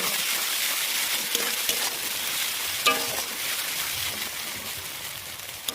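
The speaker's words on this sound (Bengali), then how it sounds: "এবার আমি দিয়ে দিব রসুন, তারপরে দিব আদা রসুন পেস্ট দিয়ে আমি খানিকক্ষণ কষিয়ে নেব" Ginger garlic paste sizzles in hot oil with onions while being stirred, a steady close frying hiss with scraping and occasional clinks of the spatula throughout.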